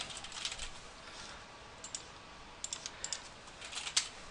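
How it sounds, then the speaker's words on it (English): Typing on a computer keyboard: scattered clusters of light key clicks at close range, with irregular bursts and pauses, over a quiet room background and no talking. "So you start typing, make a different layer for every one."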